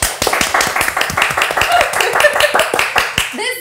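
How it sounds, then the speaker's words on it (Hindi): A studio audience claps for guests on a show, loud and close with distinct individual hand strikes in a quick uneven rhythm, and a faint voice surfaces near the end. "लेडीज एंड जेंटलमैन, जोरदार तालियां."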